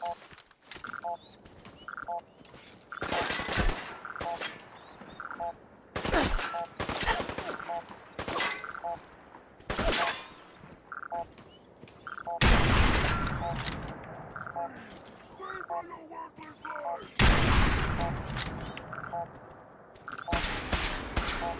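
Video game gunfire bursts out in rapid volleys from an unruly weapon, loud automatic shots recurring in clusters across the stretch, with someone talking between and over the firing.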